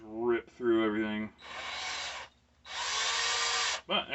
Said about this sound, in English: I use this low-speed drill so that it doesn't just go all Emily Rose and just rip through everything.